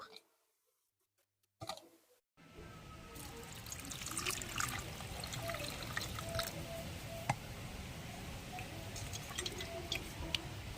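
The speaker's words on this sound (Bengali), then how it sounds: "এখন আমি আমগুলো ধুয়ে নেব" Ripe mangoes washed by hand in water, with steady splashing, dripping and light clicks of fruit against a container after a brief quiet start, close and continuous for several seconds.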